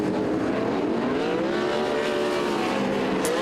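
Sprint cars roar around a speedway at the start of a race, a dense, loud, continuous engine drone with rising and falling pitch from several cars together.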